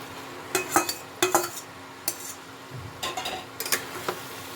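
Fried cauliflower pieces tipped into a pan and stirred with spices for a Bengali cauliflower and egg korma, giving scattered clinks and scrapes of a utensil against the pan in short irregular bursts, fairly close, with no talking.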